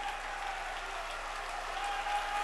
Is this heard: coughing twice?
no